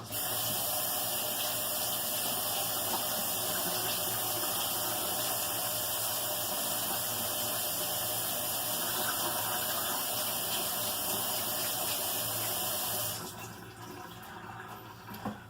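Steady running water pours without a break while a squirrel carcass is washed of its hair, then stops abruptly near the end, leaving a quieter background.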